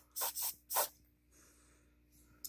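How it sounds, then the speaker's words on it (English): An aerosol smoke-test spray gives three short, close hissing bursts near a Nest Protect smoke detector, then a faint hiss follows after a quiet gap, with a brief click at the end. "I'm going to spray away from the Nest Protect."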